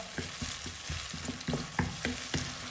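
Onions and tomatoes stir-fry in a pan for kottu parotta. A soft continuous sizzle runs under rhythmic spatula scrapes and taps, close and moderately loud, with no talking.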